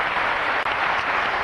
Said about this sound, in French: Applaudissements nourris du public du 102.